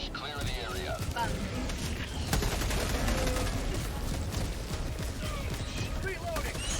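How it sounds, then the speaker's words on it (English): Orbital barrage in the Helldivers 2 video game, with heavy repeated blasts and gunfire rumbling through a dense battle mix, loud and continuous, while a voice speaks over it. "Firing orbital barrage"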